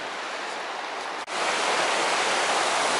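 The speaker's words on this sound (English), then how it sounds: "if you like the sound of running water, then by one of these riverside dwellings here." A river rushes beside a footpath near riverside houses at Beddgelert, a dense, steady hiss of running water, close and continuous with a brief dip midway.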